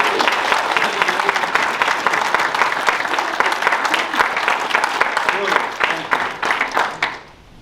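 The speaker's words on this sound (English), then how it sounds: "Round of applause for that." Wedding guests at a marriage ceremony break into a steady, dense round of applause that holds for several seconds, then thins into scattered claps and fades out at the end.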